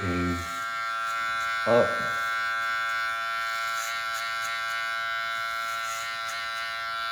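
Electric hair clippers with a guard cut a fade on a men's undercut: a steady, close, high buzzing hum that runs throughout, with a brief spoken word near the start.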